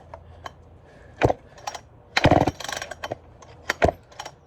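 An early Poulan 245A chainsaw, which fails to fire, is yanked by its starter cord: several short, scraping rope pulls come in separate bursts, close up, with quiet pauses between and no engine catching.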